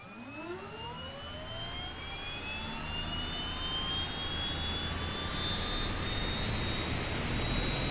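C-130 Hercules turboprop engines spooling up in an Arma 3 game session, a steady roar with rising whining tones that climb and grow slightly louder over the span, with no talk.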